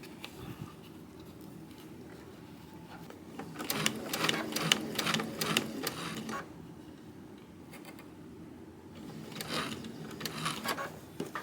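Sewing machine stitching Christmas quilt binding, running in two loud close bursts of rapid rhythmic needle clatter with quieter handling and soft talk between them.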